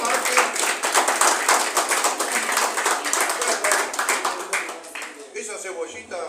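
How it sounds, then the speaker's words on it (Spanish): A group in a Bible class claps together in a loud, close burst of rapid, uneven hand claps that lasts several seconds and thins out toward the end, with voices mixed in. "Mana, hay que dar un fuerte aplauso."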